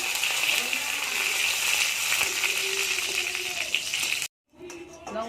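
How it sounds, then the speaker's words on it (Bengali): Dried red chillies fry in hot mustard oil with a steady, close hiss of sizzling that runs unbroken and then cuts off abruptly near the end. "আমি শুকনো লঙ্কাগুলো ভেজে নেবো"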